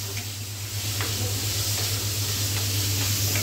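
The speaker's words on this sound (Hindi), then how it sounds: "ये गल गया देसी घी के अंदर प्याज" Onions frying in desi ghee in a pan, a steady close sizzle and hiss with a low hum underneath, continuous and even throughout.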